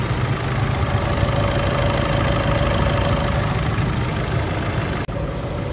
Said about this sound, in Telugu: మన బండి సౌండ్ ఎట్లా వస్తుందో మీకు క్రాంక్ చేసి చూపిస్తా చూడండి